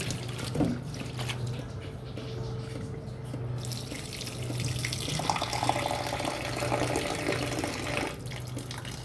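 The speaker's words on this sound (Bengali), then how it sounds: "পালং শাকটি ধুয়ে নিচ্ছি।" Running water from a tap splashes steadily into a sink as spinach leaves are rinsed, with occasional clinks and shifts in the flow.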